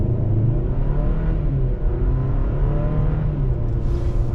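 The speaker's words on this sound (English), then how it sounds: "So now we're going to get it up to speed" Heard from inside the cabin, a 2023 Hyundai Santa Cruz SEL Premium pickup with a 2.5-liter engine accelerates up to road speed, a steady close rumble and whir with engine tone gradually rising.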